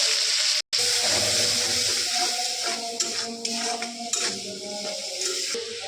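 Cumin seeds crackle and sizzle in hot oil with a steady frying hiss, while a utensil stirs and clinks against the pan.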